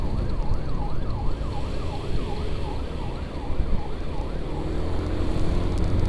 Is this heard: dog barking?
no